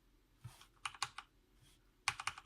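Close-up typing on a Corsair K65 RGB mechanical keyboard: irregular bursts of crisp key clacks, a few single presses then a quick flurry of strokes, with no talking.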